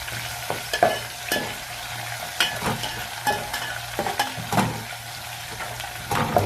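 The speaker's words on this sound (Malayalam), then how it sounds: "എന്നിട്ട് നന്നായി വാട്ടിയെടുക്കാം." Ginger and green chilies sauté in a pan, a soft sizzle broken by repeated scraping and clinking strokes of a spoon stirring at an irregular rhythm, close and fairly clear.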